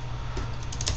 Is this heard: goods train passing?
no